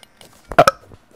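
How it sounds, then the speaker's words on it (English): A single short, close burp after eating licorice, a quick double-pulsed belch standing out against near silence. "that licorice burp kinda tasted good"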